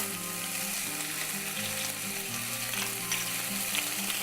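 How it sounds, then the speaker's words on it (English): Shrimp fry in a hot pan in a dense, continuous sizzle that holds steady and close throughout, with no voices over it. "Shrimp takes about 3-4 minutes to cook."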